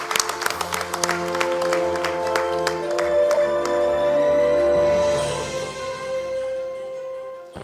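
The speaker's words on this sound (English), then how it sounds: "Let's have a applause." Delegates at an extraordinary congress break into sustained applause, a dense wash of clapping in a large hall that swells and then fades out near the end, without speech.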